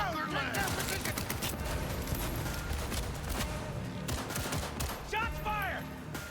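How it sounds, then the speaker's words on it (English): Dense volleys of gunfire crack out during a street firefight in Cyberpunk 2077, loud and sustained with overlapping automatic bursts. Voices shout briefly in the middle of the shooting. "Shots fired!"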